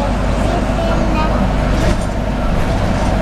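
Steady, loud drone of a London route 210 bus moving through traffic near Archway in North London, with engine rumble and road noise running continuously and voices faintly mixed in.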